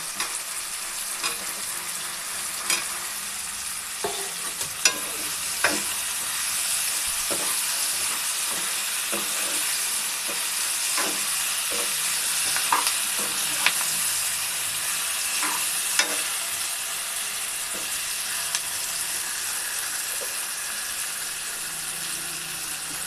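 Potatoes tipped into a hot frying pan with garlic, sizzling and crackling steadily while a spoon scrapes and stirs them, with sharp clicks of utensil against pan scattered throughout; no one speaks.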